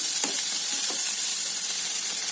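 Onions frying in a pan, an even, close hissing sizzle with a few soft stirring scrapes, no voices.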